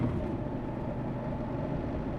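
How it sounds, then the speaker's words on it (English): A 2021 Moto Guzzi V85TT motorcycle idles with a low, steady hum, quiet and constant with no revving or other sounds. "pretty silent motorcycle"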